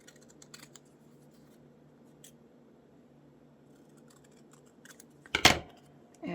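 Scissors snip paper into a picture cutout for a collage, making scattered soft crisp clicks over a low background hum, followed by a louder rustle and crunch of handled paper near the end.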